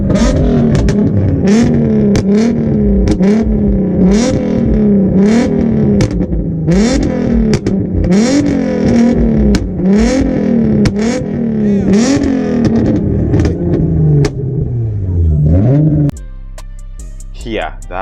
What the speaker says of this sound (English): here is this 370Z. I'll let you listen.